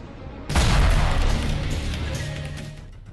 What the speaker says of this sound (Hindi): कार पर चिपकाया गया स्टिकी बम और फिर कार में हो गया विस्फोट।